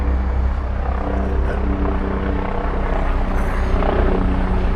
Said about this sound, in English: excuse all the helicopter noise